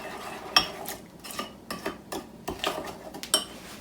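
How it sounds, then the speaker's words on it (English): Pancake batter for holiday gingerbread eggnog pancakes, made with warm butter, being mixed in a bowl, with light clinks and scrapes of the utensil against the bowl in brief irregular taps, fairly close and quiet. "I'm going to mix it just a little bit."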